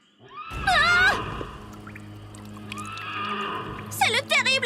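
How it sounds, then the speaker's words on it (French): A loud cartoon horse neigh bursts out with wavering, shrill whinnying, then fades under a murky background before another whinnying rise at the end. "C'est le terrible hennissement du cheval sans tête!"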